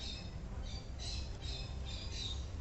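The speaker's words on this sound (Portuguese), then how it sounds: "as aves se dirigiram para a arca." Birds squawk in a few short, harsh bursts over a dense, steady background rumble, fairly close and without speech.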